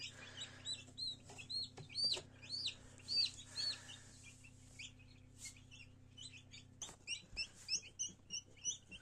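Newly hatched chicks fresh from an incubator peep in rapid, high, repeated bursts close by, over a steady low electrical hum.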